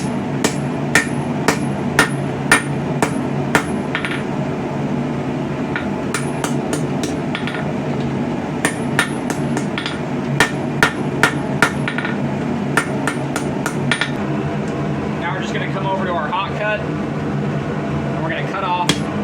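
A blacksmith's hammer forges a long taper onto a knife tang for a small Viking-style saex, striking in quick, ringing bursts with short pauses between them, close and loud over a steady background hum.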